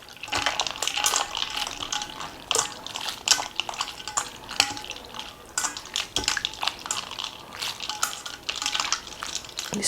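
Cooked ramen noodles being rinsed and stirred by hand in a bowl of ice water for a cold hiyashi chuka dish, with steady splashing, sloshing and light clinks of ice and bowl, close and continuous.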